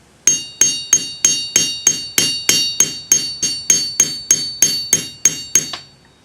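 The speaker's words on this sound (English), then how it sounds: "the locksmith's hammer" Locksmith's hammer striking metal to shape a wavy-edged anticlastic bangle: about seventeen sharp, ringing blows in a fast, even rhythm, close and loud, with nobody talking.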